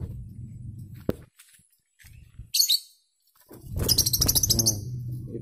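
Small caged birds, both male and female, give high-pitched chirps in two brief bursts, one short and one longer, against a low steady background hum with a sharp click near the start.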